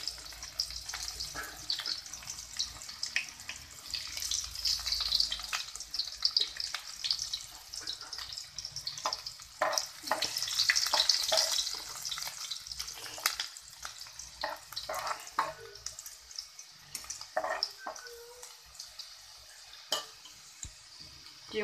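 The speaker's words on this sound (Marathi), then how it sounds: "तेलामध्ये लसूण लाल झाल्यावरती थोडासा कांदा टाकायचा." Garlic and onion frying in hot oil for a Malvani dish, an uneven crackling sizzle with clinks and stirring scrapes of a pan, close by and moderately loud, no talking.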